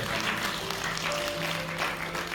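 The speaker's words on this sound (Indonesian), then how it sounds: "Boleh tepuk tangan." Church congregation at a Sunday service clapping together, a broad, moderately quiet wash of applause with a faint steady tone running underneath.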